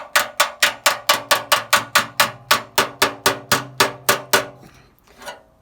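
A lump hammer taps dents out of a VW Golf Mk7 wing in about sixteen sharp, evenly spaced metallic strikes that slow at the end, with a faint final knock.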